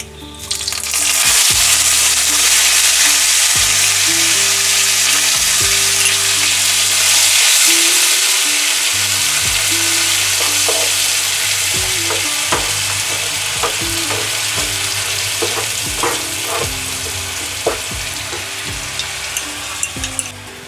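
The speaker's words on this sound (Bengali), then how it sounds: "পেঁয়াজের পেস্টটা দিয়ে যতক্ষণ না ভাজা ভাজা হচ্ছে, লাল লাল, হালকা লাল হলেই হবে, ততক্ষণ আমি ভাজতে থাকবো।" Onion paste fries loudly with cloves and cinnamon in a pan for egg korma, a constant intense sizzle punctuated by repeated scraping and tapping of a stirring spoon, close and without talk.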